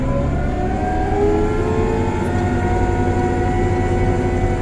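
A New Holland tractor drives along a farm during a bale-hauling job, heard from inside the cab: a steady, loud engine drone with a constant low hum, continuous and unbroken.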